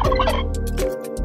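A domestic turkey gobbles loudly and close up, a rapid warbling call running through the whole short clip with no other sounds around it.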